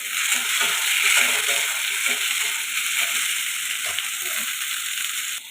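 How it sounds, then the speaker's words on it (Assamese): Chopped tomatoes dropped into hot oil for a bamla fish curry, sizzling loudly and continuously up close with faint stirring and clatter beneath. "এতিয়া মই কাটি থোৱা টমেটোখিনি ইয়াত দি দিম"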